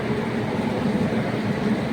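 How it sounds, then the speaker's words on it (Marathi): A passenger train running on the line during rain, a steady broadband rumble and rattle heard from inside the carriage, continuous and fairly loud with no talk. "ही आमची ट्रेन आहे"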